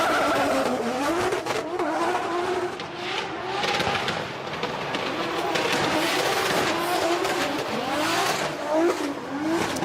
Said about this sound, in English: So we're going to see Jason Benet now fire in this 2JZ powered GT86